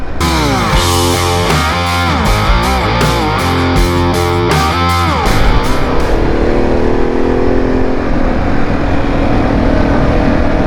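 A Harley-Davidson Pan America motorcycle on Peak District roads shifts through gears with stepped rising engine pulls, then settles into a loud steady cruise with wind rush, heard close from the rider's position.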